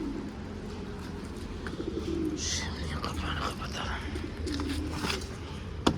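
Pigeons coo in a large coop during rain, soft repeated low coos close by over a steady wash of rain, with someone speaking briefly.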